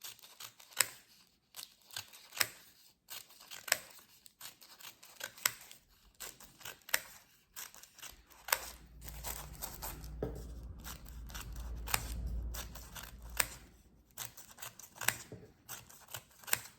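Scissors cutting the edges of pastry dough for Sardinian gueffus sweets: a rapid series of sharp, close snips in irregular rhythm, with a soft rustling low rumble in the middle, no talking.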